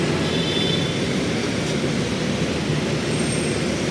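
An LRT light rail train rolls past on a Manila street, a steady broadband rumble and rush of wheels and traffic noise that stays loud and even throughout, with no voices.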